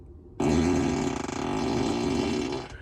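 A loud, drawn-out fart sound effect plays from a 2021 Tesla Model 3's speaker, starting abruptly and buzzing for about two seconds before cutting off.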